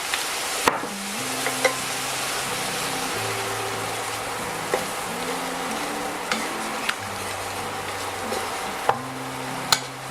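Veal kidneys cooking in a pan with brown stock, cream and mustard: a steady soft sizzle and bubbling with a low tonal hum, broken by several sharp clicks and knocks of utensils against the pan.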